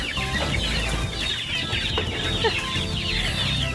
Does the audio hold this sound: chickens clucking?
yes